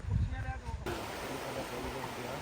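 Floodwater rushes and strikes a river embankment, a faint, even wash of noise that becomes steady after a short opening moment with a voice.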